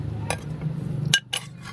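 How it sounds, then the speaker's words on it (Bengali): Spoon stirring milk in a bowl while making mishti doi, with a few sharp metallic clinks over a steady low hum. "তারপরে আবারও আমি খুব ভালো করে মিশিয়ে নিচ্ছি।"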